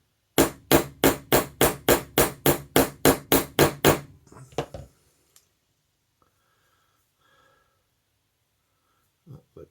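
A hard nylon hammer taps a knife pin, about fifteen sharp, evenly spaced knocks in a quick run that stops after a few seconds, followed by near silence and a couple of faint handling sounds.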